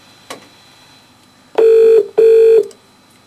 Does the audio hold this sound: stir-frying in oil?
no